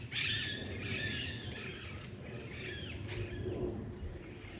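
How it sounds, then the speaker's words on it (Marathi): A parrot calls out in a Konkan countryside jungle, sounding as a few shrill, repeated cries at moderate distance over a steady bed of rustling outdoor noise. "कुठेतरी पोपट आहे, तुम्ही बघा त्याचा आवाज"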